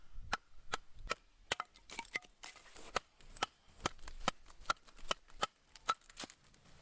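A JAK bushcraft knife batons through wood, giving a rapid series of about eighteen sharp, close knocks in a fairly steady rhythm, loud and clear with no voices.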